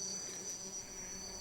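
Insects buzzing around a person's sweaty body in the wild, a steady faint high-pitched drone with no pauses.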